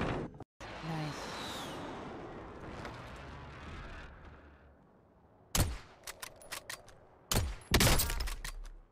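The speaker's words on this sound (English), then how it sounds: "A shot." Sharp gunshot cracks ring out in a Warzone match after a long, low rumbling stretch. Several loud, abrupt shots land close together near the end.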